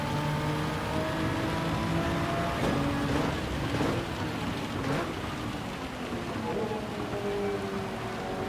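Rain in Gran Turismo 7 on the Nürburgring Nordschleife (Green Hell) at night, a steady wash of spray and patter over race car engine drone and tyre hiss, continuous and fairly loud without talk.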